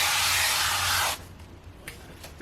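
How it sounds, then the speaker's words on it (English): Cooking spray hisses into a casserole dish in one steady, close burst lasting about a second, then stops, leaving faint kitchen room noise. "now I'm going to spray my casserole dish"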